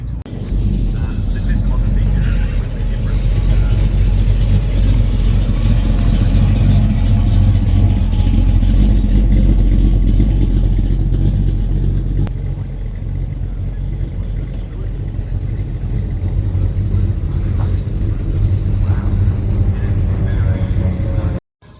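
Cars idling and pulling away as a car show ends, a steady close engine rumble with low idling drone and occasional revs, continuous throughout, with people talking faintly in the background.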